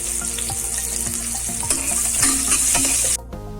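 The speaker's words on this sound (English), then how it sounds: "When oil gets heated, add 1 small sliced onion. Fry till it turns golden brown." Sliced onion frying in hot oil for mutton korma, a loud continuous sizzle with a spatula stirring and scraping rhythmically close by. The sizzle cuts off abruptly near the end, leaving a quieter hum.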